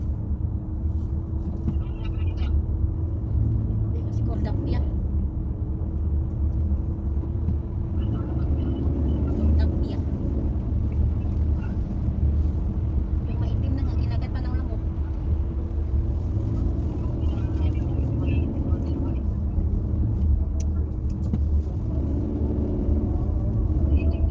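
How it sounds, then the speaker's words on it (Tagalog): Road traffic heard from inside a car heading to the airport in Riyadh, a steady low engine and road rumble that drones evenly throughout, with faint sounds of someone speaking at times. "Traffic guys, traffic."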